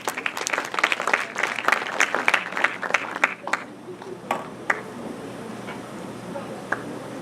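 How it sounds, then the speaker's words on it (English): Audience applause at a Japanese-Philippine conference on restoring Cebu and Bohol, welcoming a speaker to the stage; a dense burst of clapping that thins into scattered individual claps before fading. "A round of applause,"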